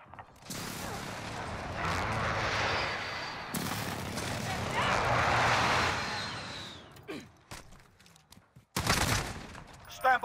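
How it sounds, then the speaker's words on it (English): Heavy bursts of gunfire and explosive impacts roll through a Call of Duty: Modern Warfare multiplayer hardpoint match as an enemy precision airstrike lands, loud and dense for several seconds before breaking into sharper separate blasts. "Enemy precision airstrike. Take cover."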